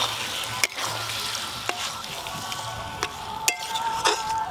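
Eggs frying in a pan of cooked-down spiced masala, with a steady oily sizzle and a few sharp clinks and scrapes of a spatula stirring them in.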